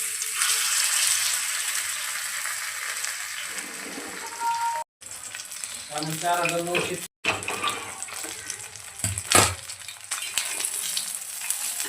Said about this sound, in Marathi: तेल गरम करून आता यावरती आपण तव्यावरती सोडूया.